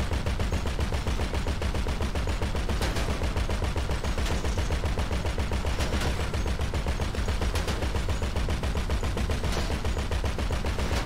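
Sustained automatic gunfire in a video game, a steady, rapid, unbroken stream of loud shots filling the whole stretch with no pauses and no voices.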